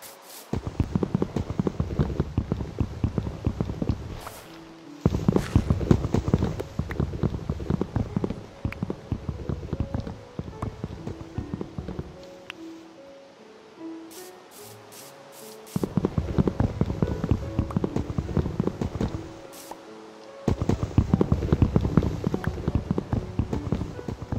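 A horse's hooves clip-clop in a rainy farm village, loud bursts of clopping coming and going in several stretches with quieter gaps between.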